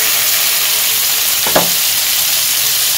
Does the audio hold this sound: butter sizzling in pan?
yes